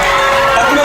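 Crowd of students at Kerala's school Kalolsavam arts festival roaring and cheering loudly for actor Mohanlal, a dense, sustained wall of voices close around.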